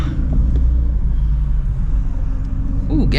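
A Shelby GT350 rolling up to a gas station late at night, its engine giving a deep, steady idling rumble heard from inside the car, with a faint voice at the very end.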